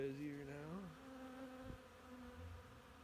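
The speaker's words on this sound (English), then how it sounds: "Lots of bees." Bees swarm busily around an outdoor barrel during a spring hive cleanup, a steady droning buzz with a low tonal hum shifting in pitch as insects fly close past, continuous and fairly near.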